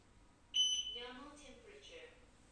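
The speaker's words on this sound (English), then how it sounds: "if it is high temperature, then it will get alarm." A single high-pitched electronic beep from an infrared thermometer's high-temperature alarm sounds near the start, followed by a person speaking.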